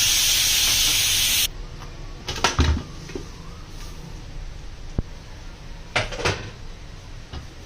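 A pressure cooker holding chicken and dal lets out a loud, sharp hiss of steam as its weight is lifted. The hiss cuts off after about a second and a half, followed by scattered metallic clatter and taps.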